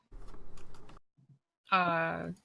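Rapid, light keyboard clatter for about a second, then a short pause before a nearby voice speaks.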